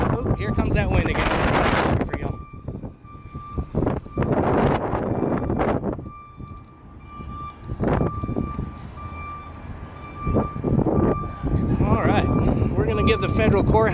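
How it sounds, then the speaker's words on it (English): Gusting wind buffets a microphone outdoors on a city sidewalk, loud low rumbling bursts that come and go across the clip, mixed with someone talking between the gusts. "Oh, here comes that wind again."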